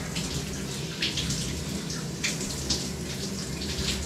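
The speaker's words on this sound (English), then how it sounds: "Now the water is still cold, but it's getting warmer." Running shower water pours steadily and hisses, with a few brief splashy surges and no voices, the water turning from cold to warm.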